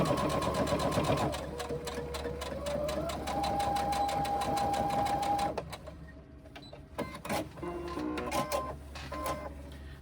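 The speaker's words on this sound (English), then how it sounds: "I'm actually doing a reverse stitch at the start and end" A sewing machine runs a steady, close whirring seam on a reversible tote bag with reverse stitches, then stops about halfway, leaving lighter clicks and fabric handling.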